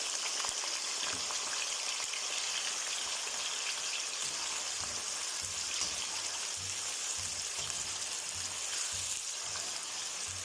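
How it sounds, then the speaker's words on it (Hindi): Cut potatoes frying in hot oil for a bhindi aloo dish, giving a steady, dense, hissing sizzle with a faint crackle that holds loud and unbroken from start to finish. "तो इसी गर्म ऑयल में हम आलू शामिल करेंगे।"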